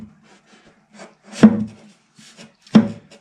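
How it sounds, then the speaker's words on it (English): Hand scraping along wooden guitar binding: two distinct rasping strokes, close and fairly loud, with quieter light scratches of sanding between them, no voices. "bring it in with the scraper. And then final hand sanding"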